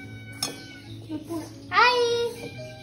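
A cat gives a single drawn-out meow near the end, close and fairly loud, in a home kitchen where nine-grain laddu is being made with jaggery and sugar, with faint background noise and brief vocal sounds before it.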